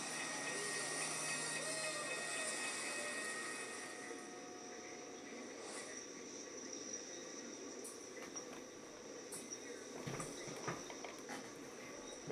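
A long intermodal freight train rumbling past at a distance in Plainfield, a steady broad roar that eases slightly midway, with occasional clanks and a few faint voices nearby.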